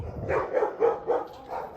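A dog barks about five times in a steady, evenly spaced rhythm, moderately close but not loud, with a quiet background.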